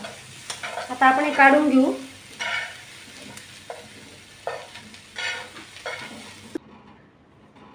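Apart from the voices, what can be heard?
onion and tomato frying and being stirred in pan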